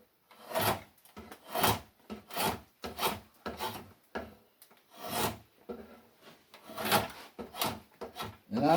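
Green wood being tapered by hand for a chair leg, likely with a drawknife or rasp: repeated rasping strokes, about one a second, close and fairly loud, with brief pauses between pulls and no talk.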